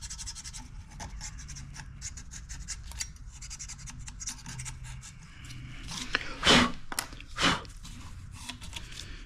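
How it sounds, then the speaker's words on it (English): A gasket surface is scraped down while accessories go back onto an engine. Quick repeated rasping strokes come close to the microphone, and two louder, longer scrapes arrive near the end. "Scrape this down just a little bit."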